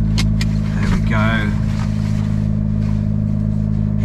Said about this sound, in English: Hear that babble of that lovely engine starting up.